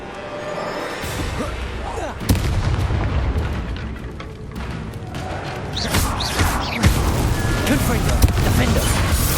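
Repeated explosive Confringo spell blasts in Hogwarts Legacy combat, sharp booming impacts at irregular intervals over rumbling battle noise, with a voice calling out spells and other casting effects layered in.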